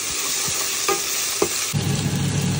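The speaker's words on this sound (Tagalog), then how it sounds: "Lagyan na tayo mantika. Lagyan ng bawang sibuyas luya." Garlic, onion and ginger sauté in cooking oil for a vegetable soup, giving a continuous close sizzle broken by a few light scrapes and clicks of a spoon.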